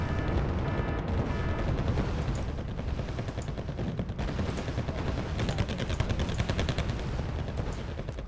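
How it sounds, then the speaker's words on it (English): Bombs burst in the Wargame: Red Dragon strategy game, a dense, continuous barrage of rumbling explosions and crackling gunfire, loud and unbroken throughout, with no voices. "Unfortunately, those bombs have dropped"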